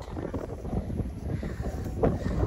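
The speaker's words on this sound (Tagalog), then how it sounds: "Lakas ang hangin." Strong gusty wind at a beachside campsite rumbles and buffets the microphone steadily, lifting a tent, with no talking.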